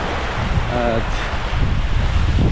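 Calm sea surf at Las Salinas Beach in Ibiza, a steady broadband wash of gentle waves with wind buffeting the microphone and a brief distant voice.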